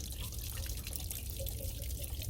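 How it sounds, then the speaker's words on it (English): Water dripping from an RV tank release valve onto the floor, a steady close patter of drips over a continuous hiss-like rush. "So I just let it drip off there down to the floor."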